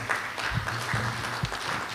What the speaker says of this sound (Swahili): tumuongezee makofi